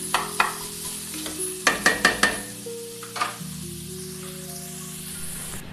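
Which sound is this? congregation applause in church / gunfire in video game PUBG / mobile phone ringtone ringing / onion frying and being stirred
onion frying and being stirred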